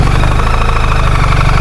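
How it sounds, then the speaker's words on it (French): A BMW flat-twin motorcycle engine running close by, a loud steady throbbing idle with a pulsing low-frequency beat. "J'aime bien le bruit de ce Flatwin."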